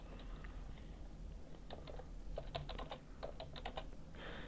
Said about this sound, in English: open up Word and we'll type something in here.